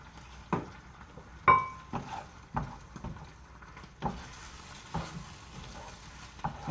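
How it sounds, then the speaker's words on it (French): Escalopes in sauce are stirred and reheated together in a pan, giving soft scattered scrapes and knocks of a utensil against the pan over a faint low simmer, with no talk. "On mélange, on réchauffe le tout ensemble."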